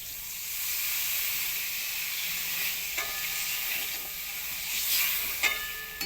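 Chili powder, salt and turmeric masala sizzles steadily in hot oil in a pan for a rohu fish curry, a close, even frying hiss with a few sharp clicks of stirring near the end.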